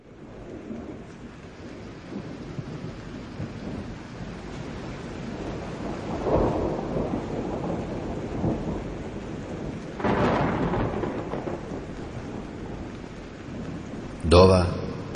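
Thunder rumbles during a thunderstorm with rain, low rolling swells of loud thunder around six and ten seconds over a steady hiss of rain, with a voice heard briefly near the end.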